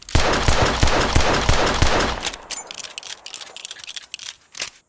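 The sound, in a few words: double-action revolver gunshot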